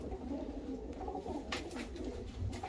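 Show pigeons of fancy Turkish breeds coo in low, throaty, overlapping calls, near and continuous, with a faint flutter or shuffle partway through.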